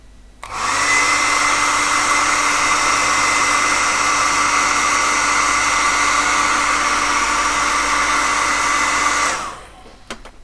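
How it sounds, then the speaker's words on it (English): A hairdryer blasts steadily at close range onto a freshly painted miniature figure, a loud continuous whooshing hum lasting about nine seconds before cutting off abruptly. "him a blast with my hairdryer."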